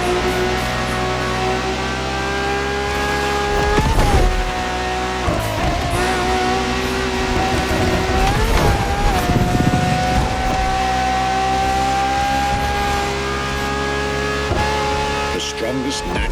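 A Ferrari hybrid supercar with a naturally aspirated V12 drives in The Crew Motorfest, its high engine note held steady with shifts in pitch as it revs, loud and continuous while a narrator talks over it.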